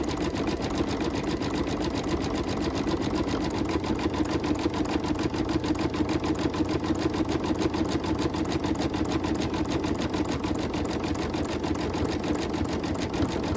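Rapid, even mechanical stitching of an embroidery machine sewing through layers of fabric, a fast steady chatter that continues without pause at close range, with no voices.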